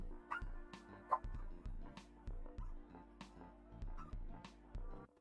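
Small dogs bark, yip and whimper in faint, repeated bursts somewhere in the background of an indoor room, with no one talking.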